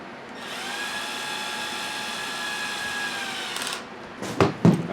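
Cordless drill with a clutch driving screws into a Losi Super Baja Rey 2.0 RC truck: a steady whining motor run of about three seconds, then short bursts and clicks as the clutch slips and the bit stops, close by.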